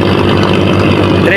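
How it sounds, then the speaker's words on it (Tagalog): Boat's twin three-piston Isiki engines, six years in use, running at sea with a steady, loud, continuous rumbling drone throughout. "Yung makina nga pala natin mga kaigops ay dalawang double engine na Isiki"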